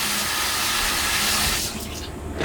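Tap water runs steadily into a sink as raw chicken is washed for chicken soup, a continuous close splashing rush that thins out toward the end.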